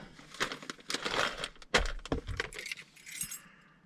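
Keys jangling and clinking while a car is locked up at a national park trailhead, a close, busy run of metallic rattles and clicks with a couple of duller thumps, no talk.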